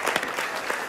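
A concert audience applauds briefly for the previous year's winners, a soft, steady patter of many hands clapping at a distance.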